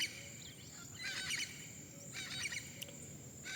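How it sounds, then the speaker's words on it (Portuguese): Faint outdoor birdsong, with a few birds trilling in two soft bursts over a steady background hiss, no talking. "vários pássaros aqui"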